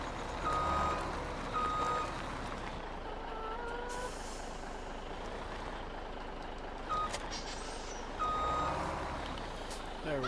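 Reversing beeps repeat steadily from a truck backing up to hitch a trailer in a farming video game, with engine rumble and a brief air-brake hiss underneath.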